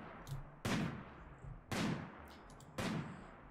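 Turrets fire in the Rimworld video game, three sharp gunshot bursts spaced about a second apart with a faint crackle between them and no talking.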